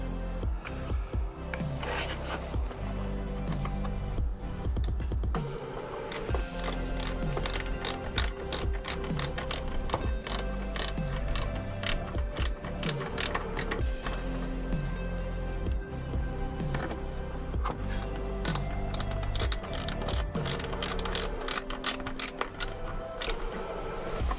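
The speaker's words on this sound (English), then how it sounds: "you get the 2 Phillips screws, secure that in" Ratchet driving the Phillips screws that secure a JWT popcharger intake on a Nissan 350z, a long run of close, rapid clicking pawl strokes in bursts, loud and alone.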